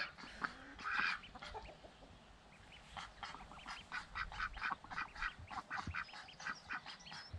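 Ducks and a duckling quack in a series of raspy, fairly close calls, irregular and overlapping, over a low rustling outdoor background in spring.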